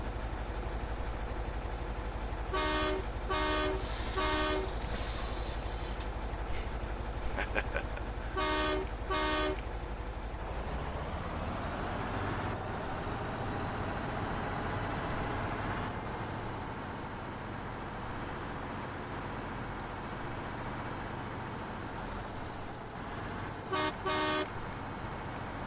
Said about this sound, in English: there's another cool feature, and that's the honk.